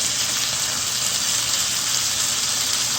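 Pot roast beef juices pour back into a cooking pot, a steady close-up wash of liquid with a bright sizzling hiss running unbroken throughout, no voices over it.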